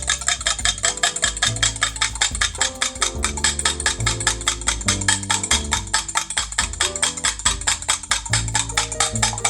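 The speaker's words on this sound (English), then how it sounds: "excuse me while I beat my eggs" Eggs beaten briskly in a bowl with a utensil, a fast, steady run of close clinking and tapping strokes that continues without a break.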